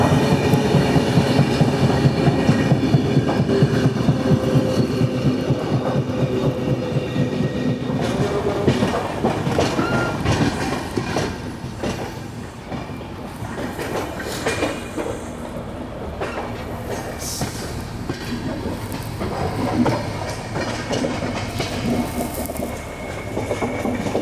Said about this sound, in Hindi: ये है भिवानी कालका एक्सप्रेस